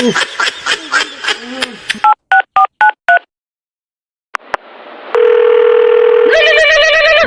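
A run of quick electronic keypad beeps dialing a doctor, then a brief silence and a steady dial tone followed by a warbling ring signal.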